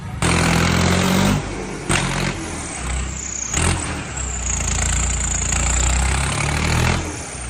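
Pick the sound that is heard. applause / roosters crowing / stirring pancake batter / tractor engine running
tractor engine running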